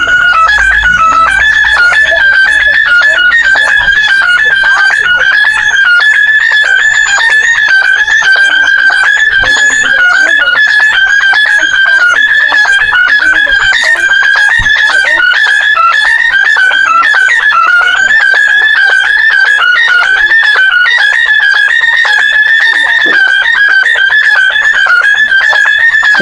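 Bugis pitu pitu, a traditional rattan instrument from Tancung in Wajo, plays a continuous buzzing, reedy drone with a steady nasal pitch that wavers slightly, loud and close throughout with no talking.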